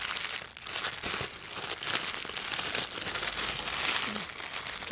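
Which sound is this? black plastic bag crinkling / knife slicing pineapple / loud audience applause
black plastic bag crinkling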